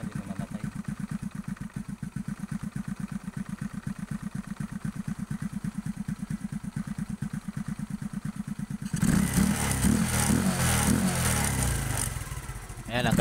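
Motorcycle engine with a freshly tuned air-screw carburetor idling steadily with a fast, even putter, then revving up sharply and settling back down.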